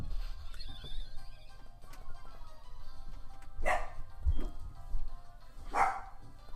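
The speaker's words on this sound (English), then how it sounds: "I actually don't know what she's barking at" A dog barks indoors, giving a few separate sharp barks spaced seconds apart over a quiet background with faint low rumbling between them.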